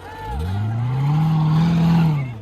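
At a large car meet in Michigan, a car revs hard in one long rising engine pull with tire noise, close and loud, while people talk and shout in the background.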